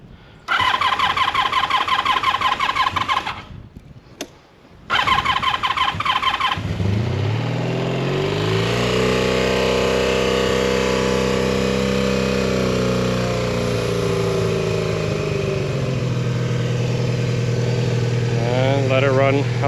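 A 1982 Honda V45 Sabre motorcycle cold-starts on choke, cranking and catching, then settles into a loud, steady idle with a low rumbling drone that runs on.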